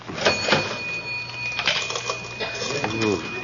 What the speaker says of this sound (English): Let's go through the cash register.